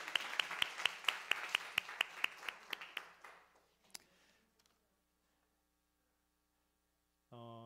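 A church congregation at a Sunday service claps in thanks, a brisk run of sharp, evenly spaced claps that thins and fades out within about four seconds, followed by near silence over a low hum, with a brief tone at the very end.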